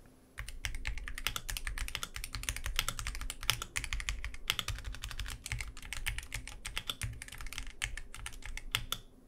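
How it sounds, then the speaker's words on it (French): Steady, rapid typing on a magnetic-switch RGB keyboard, dense clicky keystrokes close and clear throughout with no talking, fairly quiet and soft-toned. "ils sont assez discrets et produisent un son très agréable, parfait pour ceux qui aiment ce type de clavier"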